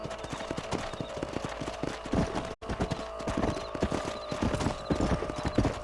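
Horses gallop in Red Dead Redemption, a fast steady clip-clop of hooves close by with an occasional snort or whinny and a brief dropout midway.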